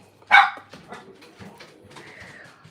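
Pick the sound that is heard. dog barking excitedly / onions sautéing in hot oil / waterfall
dog barking excitedly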